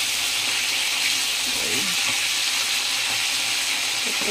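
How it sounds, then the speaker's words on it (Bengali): A constant, bright hiss of barramundi (bhetki) fish bones sizzling in hot oil, steady and close, with a few faint clinks underneath. "লাল লাল করে ভেজে নিচ্ছি মাছের কাঁটাগুলোকে"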